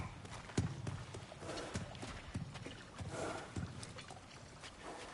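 Horse hooves clip-clop at a slow walking pace in the video game God of War Ragnarok, close and moderately loud, with a few heavier steps over a soft rustling background.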